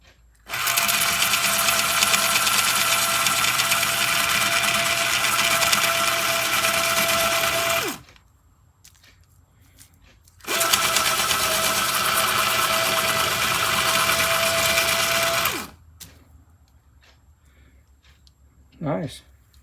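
A Panasonic electric pencil sharpener motor whirs loudly and steadily in two long runs of about seven and five seconds, with a short quiet gap between them and a brief faint sound near the end, heard close up.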